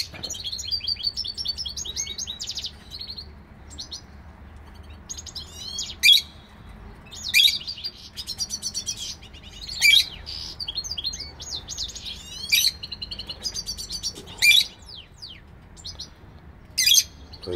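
A canary and a goldfinch chirp and trill almost nonstop, bright and close, with sharp loud calls breaking through every second or two above low room hum.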